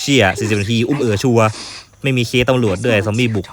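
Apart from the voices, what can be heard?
None of the usual background noises is heard.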